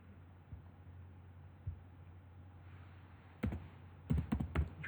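Keystrokes on a computer keyboard over a steady low room hum, a few isolated taps early on, then a quick burst of clustered clicks near the end, fairly close but soft.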